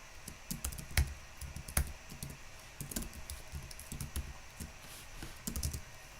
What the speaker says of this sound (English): You're so good at typing.